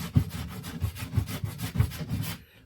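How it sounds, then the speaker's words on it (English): A Shinto rasp works the wood of an English longbow limb in rapid, rhythmic back-and-forth strokes, close and scratchy, about a dozen passes before it stops. "So I'm going to start off with Shinto rasp"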